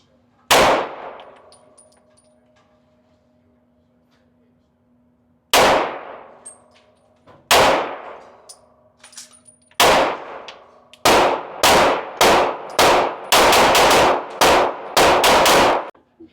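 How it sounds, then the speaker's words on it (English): Gunshots ring off steel targets at an outdoor range in snow, with loud isolated cracks and metallic clangs early, then a rapid string of close shots and pings toward the end. "Tracy, we're gonna take some warm-up shots"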